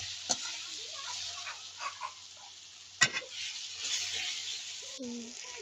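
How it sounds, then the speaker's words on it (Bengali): Tomatoes fry in a pan with spices and are stirred. A steady, soft sizzle runs throughout, broken by two sharp metallic clanks of the spoon against the pan and a few quieter scrapes. "এখন একটু ভেজে টমেটো দিয়ে দিচ্ছি।"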